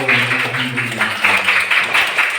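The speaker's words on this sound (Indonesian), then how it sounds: "Tepuk tangan untuk kita semuanya." Children in a classroom clap together in an uneven burst of applause, close and fairly loud, while a voice hums along underneath.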